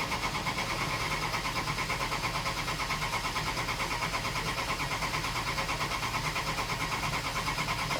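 A drag racing dragster's engine runs steadily in neutral at a European drag racing event to warm the transmission, giving a loud, continuous, rapidly pulsing drone that stays even throughout with no talk.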